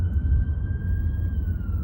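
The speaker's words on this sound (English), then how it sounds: "There's a siren, or an ambulance." An ambulance siren wails in the distance, a faint steady tone slowly bending in pitch beneath low background rumble.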